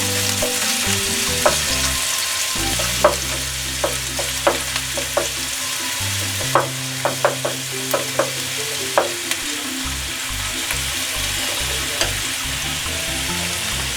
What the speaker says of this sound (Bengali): তেল গরম হয়ে গেছে। পেঁয়াজটা দিয়ে এবার একটু নাড়াচাড়া করে নেব।